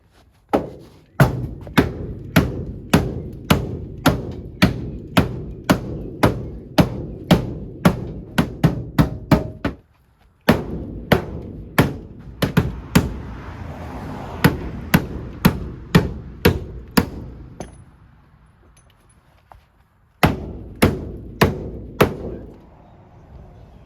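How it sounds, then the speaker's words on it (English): A hammer strikes metal parts on a 1987 Toyota van in steady, evenly spaced blows. The series of close, sharp knocks breaks off in two short pauses and then resumes. "Now we'll just move some stuff around gently with the hammer."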